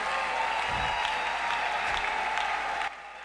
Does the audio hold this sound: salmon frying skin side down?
no